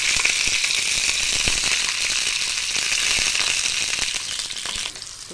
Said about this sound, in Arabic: الفلفل اتحمر اهو